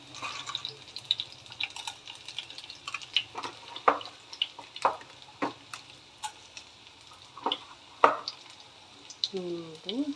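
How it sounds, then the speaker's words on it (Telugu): Garlic cloves sizzle in hot oil in a pan, a soft steady hiss broken by scattered pops and spatters, fairly quiet and close. "ఆయిల్ హీట్ అయిన తర్వాత ఒక 5 వెల్లుల్లి వేసుకోవాలి"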